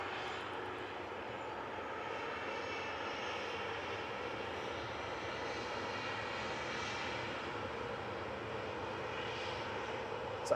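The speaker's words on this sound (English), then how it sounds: "So ATR 72 just rolling out there." An Aer Lingus Regional ATR 72 from Belfast rolls out on the runway at Manchester Airport, giving a steady, moderately distant turboprop drone with a sustained engine hum and no talk.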